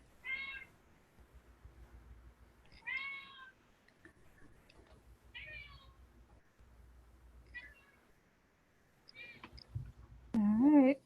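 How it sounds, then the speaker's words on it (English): A cat meows several times at spaced intervals, each call short and clear, with quiet background sound between and a louder, drawn-out meow near the end. "Can you hear the cat?"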